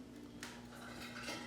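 A lid is set back onto a pot for baking sourdough bread, a quiet metallic clank followed by a brief rattle and scrape, close but faint, with no talking.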